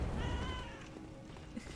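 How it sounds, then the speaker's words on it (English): A pet cat meows close by, one drawn-out, wavering call, with faint room noise and a small knock afterward. "I'm talking to my cat named Bulma"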